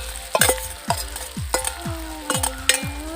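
Elephant foot yam fry stirred in a sizzling pan, with five or six clear scraping strokes of the spoon over a steady frying hiss, close and fairly loud, with no voices.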